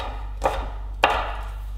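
A knife chops cabanossi sausage into small pieces on a board, two distinct sharp chops spaced about half a second apart over a steady low hum, no talking.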